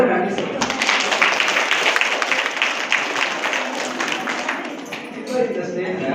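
Audience applause at a stage programme: dense, sustained clapping from a crowd fills the whole stretch at steady loudness, with voices mixed in underneath.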